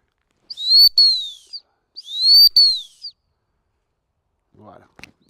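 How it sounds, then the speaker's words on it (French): Dog training whistle used to command a Labrador retriever, two long high-pitched blasts each about a second, near and clear, followed by a brief murmur of voice at the end. "Et je lui commande la recherche avec le sifflet."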